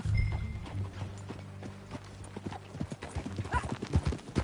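A horse's hooves clip-clop steadily at a riding pace in the Red Dead Redemption 2 video game, close and continuous, with a brief whinny and faint game sounds around them.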